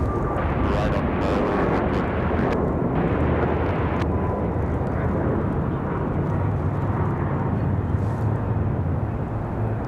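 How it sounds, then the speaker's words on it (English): A Frontier airliner taxis at Raleigh-Durham airport, its jet engines a loud, steady, continuous roar with no break. "This Frontier is taxiing in a hurry."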